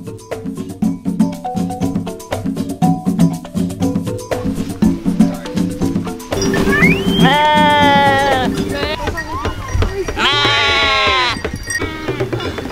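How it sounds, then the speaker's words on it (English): Loud goat bleats ring out in Kenya in two long wavering bursts, following a stretch of rhythmic music, with livestock noise close by. "that's a real goat"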